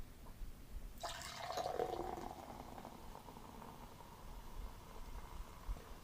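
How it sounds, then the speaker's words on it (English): Sprite soda poured into a pint glass for a layered shooter drink, a fizzy splashing rush starting after a second of quiet and settling into a steady bubbling hiss of carbonation, close and moderately loud. "Then you want to do about 8 ounces of Sprite."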